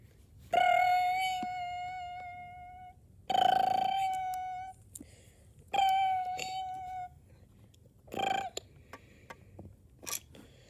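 A telephone rings in the horror video game Lego Five Nights at Freddy's 3, with three loud, clear trilling rings spaced a couple of seconds apart, then a shorter, fainter fourth burst.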